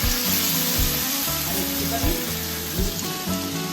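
Cumin and chili paste frying in hot oil for a pointed gourd curry gives a close, steady sizzle with bubbling crackles throughout, no talk.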